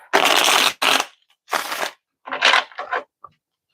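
Several quick riffling bursts of tarot cards being shuffled, close and crisp, separated by short pauses, with a final soft tap.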